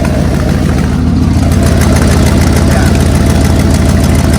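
A truck engine idles loudly and steadily at close range, a dense low rumble with a rapid even pulse that runs throughout without pause.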